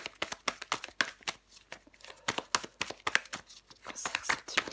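Tarot cards shuffled by hand in quick, dense, papery bursts, close and clear, with brief gaps between handfuls and no speech.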